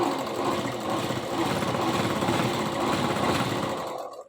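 A sewing machine stitches two layers of salwar fabric, a steady rapid mechanical whirr for about four seconds before it stops abruptly.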